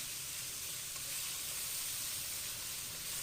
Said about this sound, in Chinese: 把牛肉放进来，先把它们都扒拉开，不要翻动，让它下面先熟一下再翻，